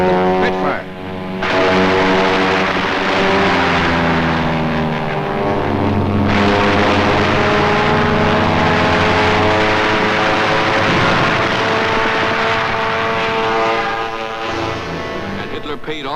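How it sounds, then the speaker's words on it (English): A Spitfire fighter's propeller engine roars loudly and continuously as it flies over during the Battle of Britain, a sustained drone that swells and holds for most of the stretch. "Spitfire."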